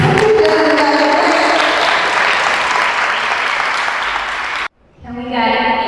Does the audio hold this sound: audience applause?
yes